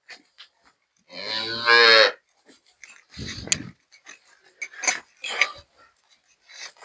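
Cattle on a farm where cows are being sold, with one loud, drawn-out moo followed by a shorter, lower bovine call, plus scattered faint shuffling and small noises between them.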